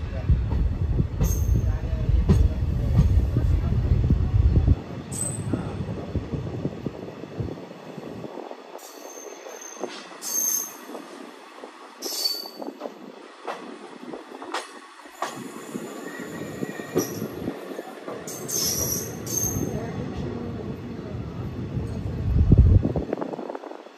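The Latur–Pandharpur special passenger train rolls along with loud wheel rumble and clatter, brief squeals and rattling carriage noise throughout, with faint voices from a crowded coach.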